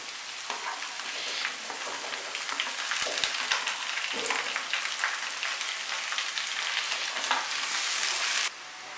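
Steady, loud sizzling and crackling as boiled vegetables fry with onions in a pan for Kolkata-style egg chowmein, with occasional stirring scrapes and no talking.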